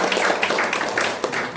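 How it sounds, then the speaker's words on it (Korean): Church audience applause welcoming a guest, a dense, steady wash of many hands clapping at close range for the whole moment, with a brief murmur of voices mixed in. "우리 박수로"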